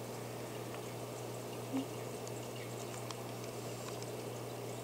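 Quiet bubbling and trickling water in a planted 8-gallon Fluval aquarium runs steadily over a constant low filter hum, with one brief soft blip partway through.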